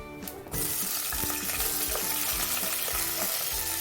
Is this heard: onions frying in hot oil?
yes